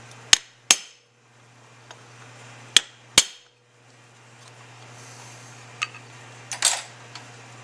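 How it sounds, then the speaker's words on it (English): A metal punch strikes a Carter M946S carburetor casting in four sharp, close, ringing hits in two quick pairs, followed by a few lighter taps and clinks against a faint steady hum. "take your screwdriver, or if you have a punch, just dimple that casting again"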